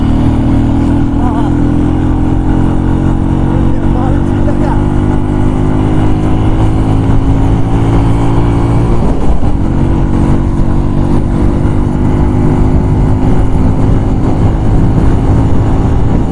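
A motorcycle engine runs steadily and close by, a constant low rumble with a brief shift partway through. The bike is having trouble and giving off smoke.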